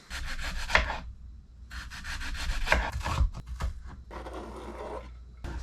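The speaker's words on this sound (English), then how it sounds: "we're going to start just by chopping all our toppings" A knife chops burger toppings such as onion on a wooden board, making bursts of close, rasping strokes that come in uneven rhythmic runs with short pauses between them.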